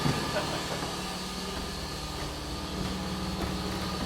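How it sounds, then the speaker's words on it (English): An air compressor runs in a guitar-making workshop, a steady low mechanical hum and drone held throughout at moderate level, with some background speech. "I just turned the air compressor on"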